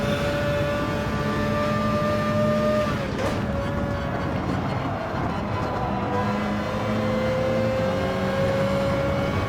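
A Gran Turismo 7 race car engine in a video game drones loudly and steadily, its pitch dipping briefly around a gear change before holding a high sustained whine.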